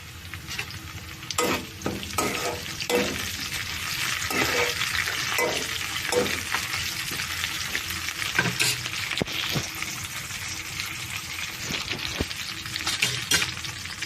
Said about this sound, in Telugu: ఉల్లిపాయలు వేగుతున్నాయండి.